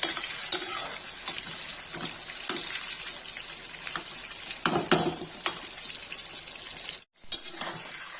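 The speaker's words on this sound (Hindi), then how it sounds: "गाइस देखिए लौकी फ्राई हो गई" Bottle gourd frying in a pan gives a steady, close sizzle with occasional stirring clatters and a brief break near the end, with no talk.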